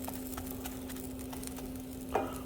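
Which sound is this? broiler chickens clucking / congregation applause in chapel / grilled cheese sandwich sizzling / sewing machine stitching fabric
grilled cheese sandwich sizzling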